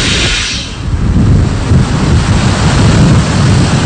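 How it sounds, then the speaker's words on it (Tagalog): Very strong wind during Typhoon Haiyan (Yolanda) in Santa Rosa, Laguna, Philippines: loud, continuous roaring gusts buffeting the microphone with heavy low rumble and hiss, steady throughout with no talk. "nakakaranas pa rin tayo ng napakalakas na hangin"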